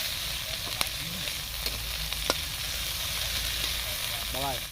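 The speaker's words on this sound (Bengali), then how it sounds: "আমাদের নিম পাতা ফ্রাই হচ্ছে" Neem leaves sizzle steadily in hot oil, with a few sharp crackles and soft stirring sounds running through the frying.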